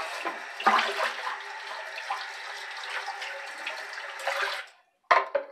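Tap water runs steadily into a sink while a razor and shaving brush are rinsed off during a wet shave, a continuous splashing rush that swells near the end, cuts to silence, then briefly resumes.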